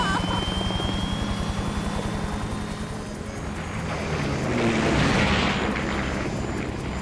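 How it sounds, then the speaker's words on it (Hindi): Steady helicopter rotor thump with a low engine drone, fairly loud and continuous, swelling slightly near the end. "हम हेलीकॉप्टर में हैं।"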